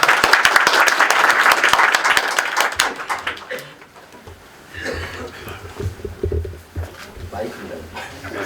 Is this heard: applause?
yes